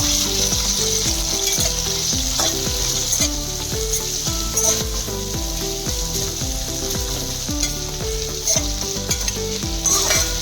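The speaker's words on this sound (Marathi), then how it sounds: "दोन ते 3 मिनिटं आपण छान परतून घेऊ कांदा।" Onions sauté for veg pulao in a steady, crackling sizzle, and a utensil scrapes and taps against the pan in a regular stirring rhythm throughout, close and clear with no talking.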